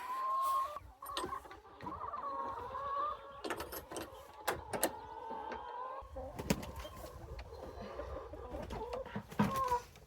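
Hens on a muddy farm after rain cluck and murmur close by in a loose, continuous chatter, with scattered sharper calls and some rustling and footsteps mixed in.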